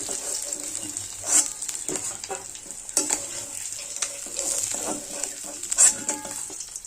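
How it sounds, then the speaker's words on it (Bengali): Tangra fish fry in oil, a moderate steady sizzle close by, punctuated by several scraping stirs and light metallic clinks of a spatula as the pieces are turned and lifted. "আমার মাছগুলো ভাজা হয়ে গেছে, আমি তুলে নিচ্ছি"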